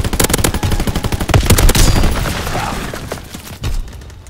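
A GPMG machine gun firing in Call of Duty WW2's winter siege mode, a loud rapid burst of evenly spaced shots that stops and leaves a fading echo and a brief thud, close and with no talk.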